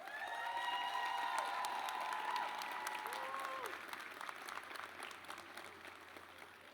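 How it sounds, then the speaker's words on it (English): An audience at a Bowie State University Founders' Day celebration applauds standing staff members, with sustained clapping from a crowd that slowly tapers while a voice carries faintly over it. "With members of the staff, if you are here, please rise so we may applaud you at this time."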